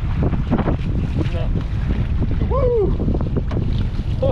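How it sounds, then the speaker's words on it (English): Strong wind of about 50 km/h buffets a fishing boat heading back in through shallow water, a steady loud roar of gusts and water with no pauses, while a voice is faintly heard beneath. "It's about a 50k wind, if not more"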